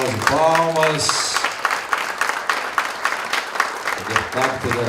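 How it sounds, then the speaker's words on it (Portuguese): An audience at an economics award ceremony applauds with steady, dense clapping that lasts throughout, while a presenter speaks over it at the start and end. "Parabéns, uma salva de palmas."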